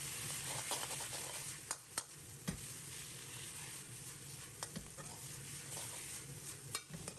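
Cabbage is stir-fried over high heat in a wok with salt, sugar and MSG, a steady crackling sizzle broken by several sharp clanks and scrapes of the spatula against the metal.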